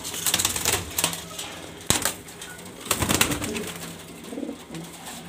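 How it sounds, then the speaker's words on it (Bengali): Grizzle pigeons in a breeder's sale loft coo softly among scattered wing flaps and sharp clattering knocks, a busy, close cluster of birds with no talking. "বন্ধুরা দেখতেই পারতেছেন একবারে টপ কোয়ালিটি বাছাই করা কবুতরগুলো"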